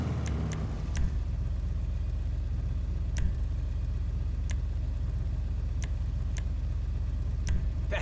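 An LCC Sanctus motorcycle in GTA 5 Online idles with a steady low exhaust rumble, close and even, while sharp ticks and clicks punctuate it every second or so.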